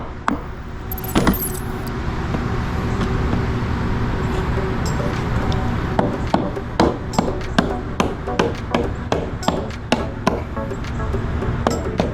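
A rapid series of sharp hammer strikes on old fence wood rings out over a steady background hum, irregular at first, then coming in quick succession.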